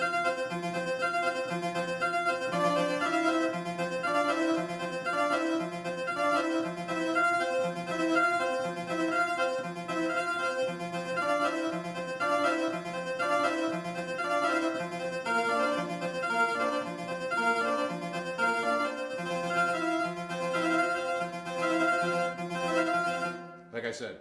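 Layered synth part from detuned NNXT samplers in Reason, a dense sustained chordal texture with repeating notes, steady and moderately quiet, with no voice over it.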